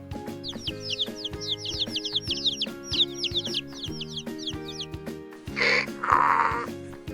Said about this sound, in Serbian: Malo žuto pile pijuče.